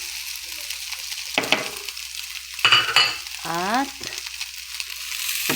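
Fried rice with minced fish and egg stirred in a hot pan, steady sizzling frying broken by scraping strokes of a utensil, close and moderately loud, with a brief spoken word.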